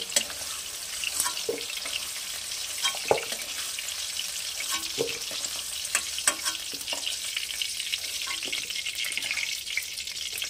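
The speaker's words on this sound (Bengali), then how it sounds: "আলুগুলো হালকা ভাজা হয়ে গেছে, এর থেকে বেশি কড়া ভাজার দরকার নেই। আমি আলুগুলো তুলে নিচ্ছি।" Potatoes fry in hot oil in a pan for a Bengali ghonto or sukto, giving a close, continuous crackling sizzle broken by scattered clinks and scrapes of stirring.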